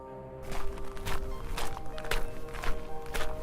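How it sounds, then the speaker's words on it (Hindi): Footsteps approaching in a cartoon folk tale, a steady series of about seven thudding steps, fairly close and growing firm, heard alone without talk. "तभी दूर से किसी के कदमों की आहट सुनाई देती है।"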